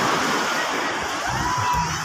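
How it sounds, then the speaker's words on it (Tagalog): Ocean waves at Masaw Beach wash in as a steady broadband roar of surf, fairly close and continuous throughout, with no clear voices over it. "Waves."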